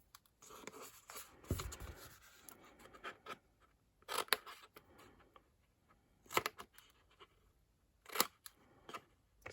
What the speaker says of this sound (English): Because I'm using these scissors.